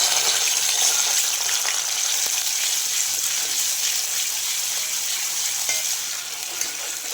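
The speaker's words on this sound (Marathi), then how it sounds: "आता तेलामध्ये हा मसाला टाकून घेऊया." Masala hitting hot oil in a pan for a curry, producing a loud, continuous crackling sizzle that holds steady and eases slightly near the end, with no one speaking.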